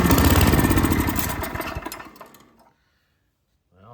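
Snowblower engine trying to start after its spark plug was refitted and carburetor cleaner sprayed in, a loud close sputtering run that briefly catches, then winds down and dies into silence after about two and a half seconds.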